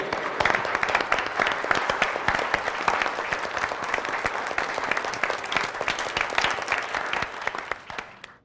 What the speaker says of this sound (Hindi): चलिए एक दूसरे के लिए जोरदार तालियां